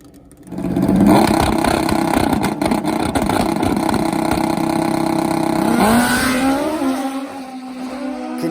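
Nitrous-fed old-school Kawasaki and Suzuki Hayabusa drag bikes launch side by side, a loud close roar of high-revving engines that climbs sharply, then fades as they pull away down the strip.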